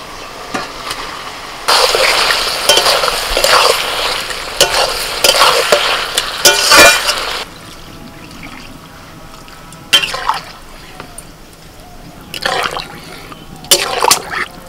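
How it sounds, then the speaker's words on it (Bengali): Fried potatoes and pointed gourd hit a pan of spice paste and are stirred, a loud burst of sizzling and scraping that eases off into quieter, intermittent stirring clatter. "মশলাটা কষিয়ে নিয়ে এবার ভাজা আলু আর পটলগুলো দিয়ে দিচ্ছি"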